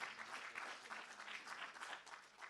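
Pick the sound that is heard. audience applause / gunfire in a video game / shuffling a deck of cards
audience applause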